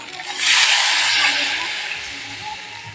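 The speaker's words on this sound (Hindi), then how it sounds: "पानी अब इसमें छोड़ दे रही है" Water poured into a pan of frying vegetable curry, giving a sudden loud hissing rush that swells and then slowly fades over a few seconds.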